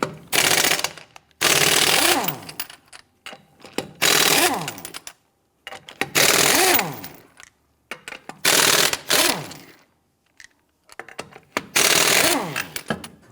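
An impact wrench with a 21mm socket loosens the lug nuts on a 1992-1996 Toyota Camry wheel, firing six loud, close, rattling bursts, each lasting about a second and separated by short silences.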